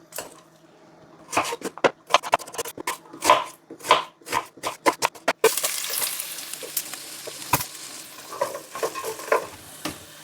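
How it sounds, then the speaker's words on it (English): Onions and garlic stirred in a hot pan: scraping clicks and taps, then a burst of steady sizzling that fades into crackling frying. "simply frying off the onions and garlic before adding any water to it"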